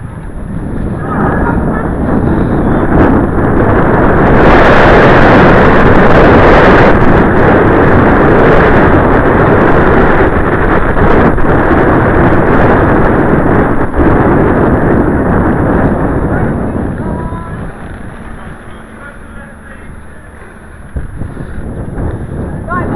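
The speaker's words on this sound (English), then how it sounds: "The wind's a bit stronger than it was" Strong wind roaring across the microphone during a bike ride, a loud, steady rushing blast that fills the whole stretch and eases slightly near the end.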